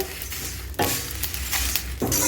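Whole spices for garam masala roast in a hot pan, giving a soft sizzle under scraping stir strokes that come in a few close bursts, with no talking.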